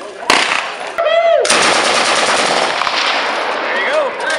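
Full-auto machine gun firing at an outdoor full-auto shooting event: a lone loud shot, a brief pause, then a long, sustained, rapid-fire burst that runs close and loud to the end.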